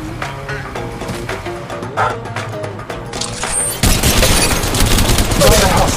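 Gunfire in Apex Legends: rapid bursts of shots crackle densely, with a heavier, louder volley taking over partway through.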